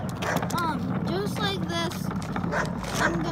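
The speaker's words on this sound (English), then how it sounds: "My dog is barking like crazy." A dog barks and yelps excitedly in a rapid series of sharp calls, fairly close, over a steady background rumble.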